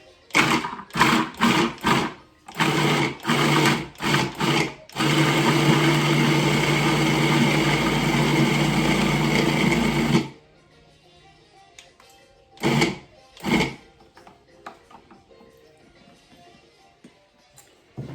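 A food processor chops garlic and pecans: a run of short, loud pulses, then one continuous whir of about five seconds, then a few more brief pulses before it goes quiet.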